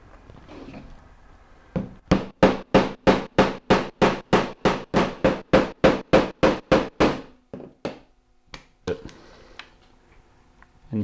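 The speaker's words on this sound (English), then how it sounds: "I'm simply just going to hammer into the cutting board." A hammer drives a nail through splitboard climbing skins into a cutting board, a steady run of about eighteen sharp, evenly spaced blows, followed by a few scattered knocks.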